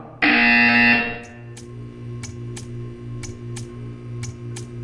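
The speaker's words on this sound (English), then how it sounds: "You will hear a buzzer." A loud, steady electronic buzzer in the video game Portal 2 blares for about a second, then stops, leaving a low hum with sharp, repeated clicks ticking at a regular pace.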